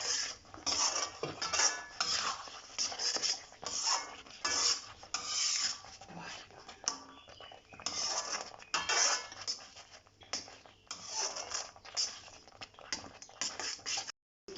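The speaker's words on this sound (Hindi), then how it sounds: "जब तक घी नहीं निकलता तब तक हम ऐसे ही एकदम चलाते रहेंगे" Moong dal halwa being stirred continuously in a kadhai, with a rapid, busy run of metal spoon scraping and clinking against the pan throughout, fairly close and loud.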